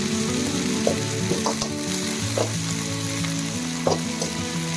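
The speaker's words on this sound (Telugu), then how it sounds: "ఈ పుదీనా, కొత్తిమీర కొద్దిసేపు ఫ్రై చేసుకోవాలి" Mint and coriander leaves deep frying in hot oil, a steady close sizzle with a few brief stirring clinks and scrapes, no talk.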